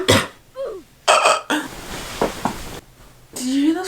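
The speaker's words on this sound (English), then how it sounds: "I feel like I burp in every video" A person burps several times in quick succession, short guttural belches with pauses between them, loud and close, alone with no talking.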